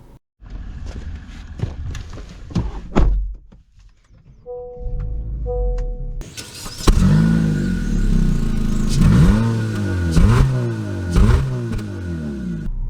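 A 2023 Honda HR-V with all-wheel drive in snow. A few clunks and a short electronic chime come first, then the engine starts and pulls away, revs rising and dropping through several shifts, loud and close from inside.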